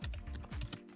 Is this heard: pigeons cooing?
no